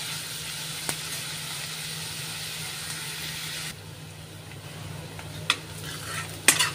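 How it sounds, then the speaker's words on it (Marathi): Onion stir-fried in a pan for a soybean masala curry, a steady sizzle that drops in intensity partway through, with a few sharp spoon scrapes and clinks, close and alone. "कांदा हा छान लाल परतून घ्यायचा आहे"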